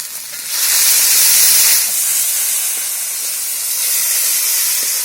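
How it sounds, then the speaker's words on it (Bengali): Ginger garlic paste hits browned onions in a hot pan for a jackfruit curry, bursting into a loud, close, hissing sizzle that peaks then settles into a steady frying crackle. "এর মধ্যে দিয়ে দেবো যে আদা রসুনটা বেটে নিয়েছিলাম সেটা দিয়ে দেবো।"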